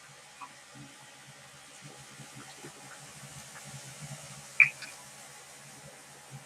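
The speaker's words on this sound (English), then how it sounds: "you can see it really bubbling now" Liquid nitrogen bubbles and hisses softly around pieces of fruit in a container, a faint, steady fizz with a few sharper pops near the end and no talking.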